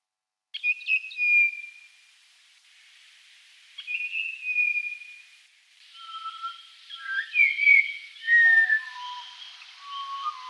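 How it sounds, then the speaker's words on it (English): Grey butcherbird singing at Pearl Beach Arboretum, clear fluting whistled phrases in separate bursts with pauses between, close and loud against a quiet background. "And you might get to hear the grey butcherbird."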